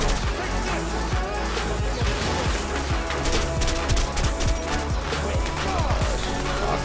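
Rapid, dense gunfire in the video game A Way Out, with loud repeated shots and crashes layered over a busy, noisy game soundscape, and brief voices mixed in.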